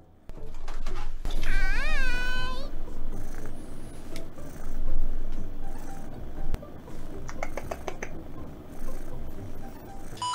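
A four-month-old female kitten meows once near the start, a short rising-falling cry up close, followed by soft rustling, light clicks and shuffling household noise.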